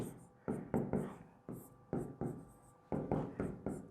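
Marker or chalk strokes on a board while working out a surface-area and volume maths problem, a run of short scratchy bursts in uneven rhythm, close and moderately loud with no talk.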